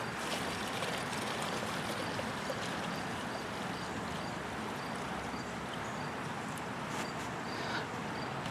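Fuel streams steadily from a disconnected lawn tractor fuel line after clean fuel is added to the tank, a continuous trickling, splashing wash that stays even and fairly loud close by throughout.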